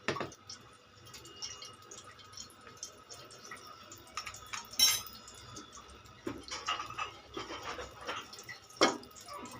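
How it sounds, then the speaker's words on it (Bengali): Sago pearls being rinsed in water give soft, faint sloshing drips and small clinks against a container, quiet and intermittent with no voices. "এই যে সাবুদানাগুলো ধুয়ে ফেলছি।"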